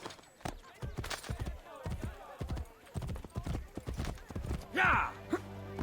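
A horse gallops in Assassin's Creed Brotherhood, with quick, rhythmic hoofbeats close by and a few shouts and a brief whinny-like burst near the end.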